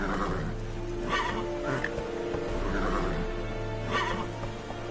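A horse in The Witcher 3 game whinnies and snorts in several loud bursts over a low steady background, with faint hoof clatter.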